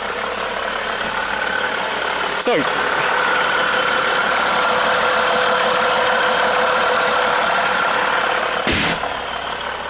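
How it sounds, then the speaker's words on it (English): A Mercedes ML270 CDI diesel idles nearby with a steady, slightly clattery engine rumble throughout. A brief spoken word and a couple of short sharp transient noises sit over it. "with this sort of diesel they're a little bit noisy on start, but better as they warm up slightly"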